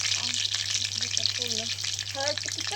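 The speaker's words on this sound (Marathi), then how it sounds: "जिरी मोहरी टाकली बघा ह्याच्यात" Cumin and mustard seeds sizzle in hot oil as a tempering for khichdi, a steady close crackling hiss with a few faint voices underneath.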